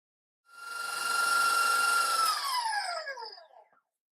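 Electric hand mixer creaming butter for an eggnog pound cake batter, a steady close whine with no talk that drops in pitch as it winds down and stops.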